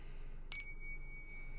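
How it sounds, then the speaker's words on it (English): A single bell rung once indoors, a sharp bright ding followed by a clear ringing tone that decays over about a second, alone in a quiet room. "I'm going to ring the bell again"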